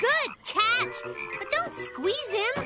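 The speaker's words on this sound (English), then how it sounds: "Listen to that frog croak." A cartoon frog croaks in rapid, warbling bursts, loud and close, while a voice speaks between and over the croaks.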